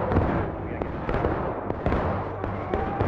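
Rapid gunfire in the Civil War shooter War of Rights during a zombie mode with Titans, sharp cracks and bursts repeating irregularly over a dense rumbling battle din, with a voice talking underneath.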